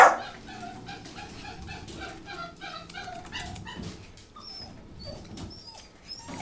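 A dog yips and whimpers in a series of short, high, excited barks, close by, with no talking.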